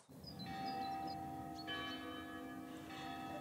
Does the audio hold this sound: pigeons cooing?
no